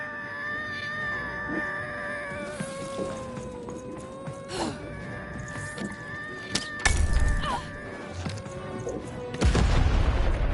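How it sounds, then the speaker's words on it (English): Cannon fire in the video game Lost in Random: two heavy booms land late in the passage over busy game music and effects. "Shoot the button to fire the cannon."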